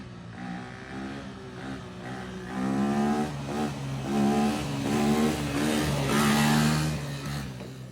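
A 250cc motorcycle engine with a repaired exhaust idles and revs in a few swelling pulses, a steady harmonic drone rising and falling, moderately loud and close, with no talk.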